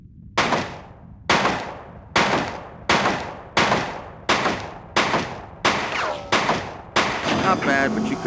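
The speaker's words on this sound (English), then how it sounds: "Let's try out the submachine gun" A submachine gun fires in Die Hard Vendetta, about ten loud, evenly spaced bursts close up, each with a sharp attack and short decay, followed by a brief fade into background game sound.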